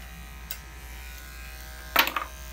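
Electric clippers grooming a Shih Tzu around the neck, a faint steady hum that swells into a short louder buzzing burst near the end.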